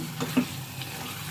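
A spoon stirring a thick tomato khatta with seedless dates, raisins and cashews in a pan, soft wet churning and a few light scrapes, close up and steady, with no voices.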